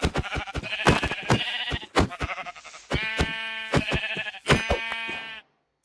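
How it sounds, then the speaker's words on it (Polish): Sheep in Minecraft bleat repeatedly in close, loud bursts, several overlapping calls with short gaps between them before the sound drops out at the end. "O, owce."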